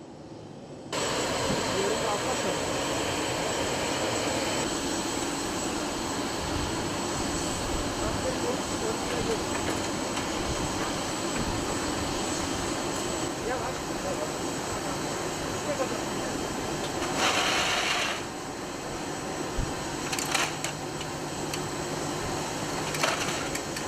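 A steady, loud ambulance aircraft engine roars continuously nearby at Ercan Airport, Cyprus, with voices talking intermittently over the drone and occasional brief knocks.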